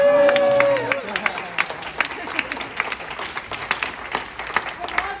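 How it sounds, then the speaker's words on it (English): An audience claps and applauds at an All-Stars presentation. After a brief vocal cheer at the start, a steady patter of many hands carries on with uneven bursts throughout. "Okay, yes, clap."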